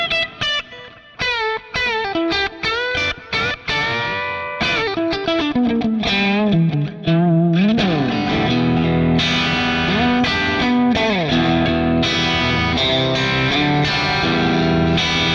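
A Fender Telecaster electric guitar plays through distortion, with quick picked runs, note bends and heavily driven sustained chords that grow louder and denser, loud and close with no talking.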